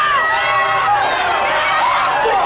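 A wrestling crowd cheers and shouts in a loud, continuous roar with voices overlapping at close range, and the noise never dips.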